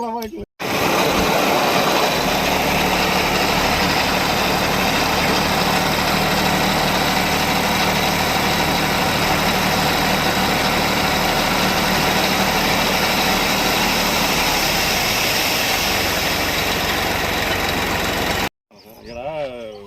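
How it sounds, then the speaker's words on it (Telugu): Tractor engines idle at a sand stockpile while being loaded, a steady low diesel rumble that holds unbroken for most of the clip before cutting off near the end. "3 ట్రాక్టర్లు లోడ్ చేస్తున్నారు సార్ ఇప్పుడు ఇక్కడ"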